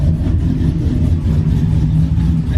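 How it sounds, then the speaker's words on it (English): A cammed Hemi 6.4 V8 in a Ram pickup with a ported intake manifold runs steadily up close, its deep lumpy rumble continuous and loud with a slight rise in revs, no voices over it. "You can kind of hear it when you crack the throttle on certain intakes."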